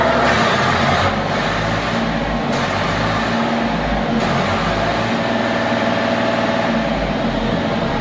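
A second-hand 2007 tractor with a side-shift gearbox and about 3,200 hours of use, its engine idling steadily and loudly close by. The deep, even rumble runs without a break through the whole stretch.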